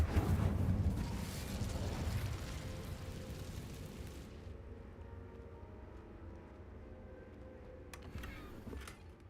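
The Incendio fire spell is cast in Hogwarts Legacy, bursting out as a loud, roaring whoosh of flame. The roar fades gradually into a low rumble over several seconds, with a short crackle near the end.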